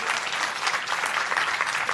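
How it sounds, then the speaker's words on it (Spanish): An audience at an academic tourism-law event at a Peruvian university applauds steadily, a dense close wash of many hands clapping throughout with no voices over it. "Fuertes aplausos para ellos,"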